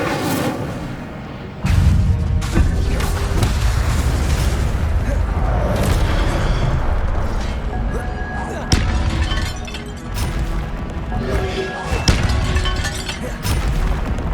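Fire spell Incendio cast repeatedly in Hogwarts Legacy, heard as several loud bursting whooshes and booms under busy game sound, alongside other spell impacts.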